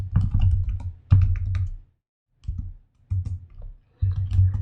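Computer keyboard typing at a terminal, bursts of rapid clicking keystrokes separated by short pauses, close and fairly loud with no talk.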